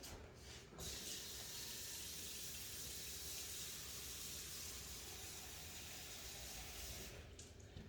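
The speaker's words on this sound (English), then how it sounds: "Let me get some water in the pan." Water runs from a kitchen faucet into a cooking pan as a steady, close hiss lasting about seven seconds, with no talking.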